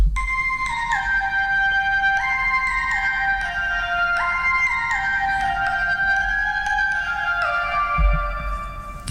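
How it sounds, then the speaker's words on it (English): A bright synth lead plays a stepping melodic line of sustained notes sequenced from an Arturia BeatStep Pro, moving between pitches in an even, programmed rhythm over a soft low background hum. "a lovely little lead line that I just programmed in by doing the record function in here"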